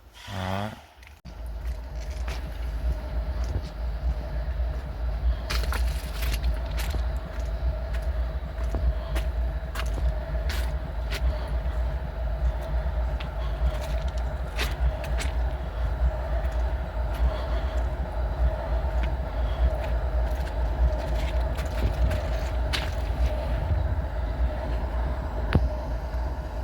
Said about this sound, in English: I'm not going to step in front of the locomotive